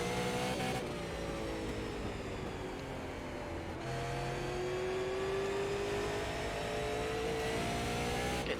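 Super late model race car engine in the iRacing sim, a constant loud drone with rising and falling pitch as it pulls through the turns, no talk.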